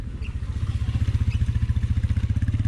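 A motorcycle with snow chains fitted rides over snow, its engine pulsing in a rapid steady rhythm with a rhythmic clatter, loud and close throughout.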